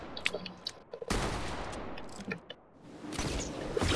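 Shotgun blasts in a video game match set to a shotgun-only mode, several sharp reports in quick succession with bursts of noise in between, fairly close.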